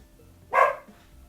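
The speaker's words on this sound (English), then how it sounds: "Oh, that dog." A single sharp dog bark sounds indoors at moderate distance, alone against a quiet room.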